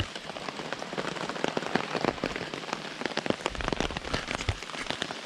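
Steady rain patters on a hammock wild camp on Dartmoor, with dense, close drops tapping and pinging on the tarp and surfaces in an uneven, continuous rhythm, and no voices.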